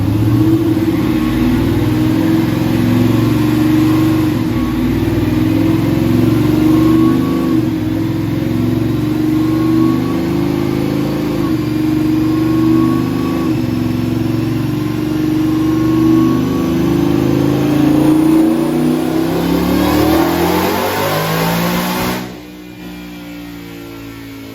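A supercharged Ford F-150 engine with a 4-inch pulley, making about 765 horsepower, revs loud and sustained with a rising pitch, then drops off sharply near the end.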